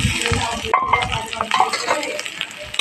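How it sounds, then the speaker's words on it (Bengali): Onion and tomato paste masala being stirred in a hot pan for a pomfret fish curry, with loud close scraping strokes over a continuous sizzle. "আমি আবার নাড়াচাড়া দিয়ে দিলাম"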